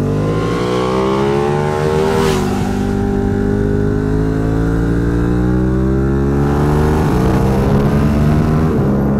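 A Ducati Panigale V2 sport motorcycle engine revs hard and climbs in pitch close up, with a gear shift or two as it keeps accelerating loudly.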